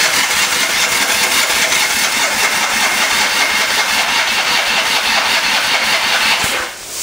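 A 1980 Kawasaki KZ440 LTD motorcycle engine cranks over on the starter, a loud, continuous, close whirring drone that holds steady for nearly seven seconds before cutting off.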